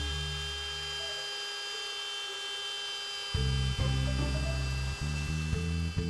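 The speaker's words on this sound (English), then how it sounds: "we're going to be using a router to cut the circle out of our baseboard" A router cuts a circular hole out of a model railway baseboard for a PECO turntable, starting abruptly partway through as a loud, steady, close whine that holds to the end after a quieter hum.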